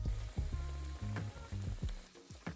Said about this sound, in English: carefully place your Spam into the pan and let it fry on each side for about 1 minute.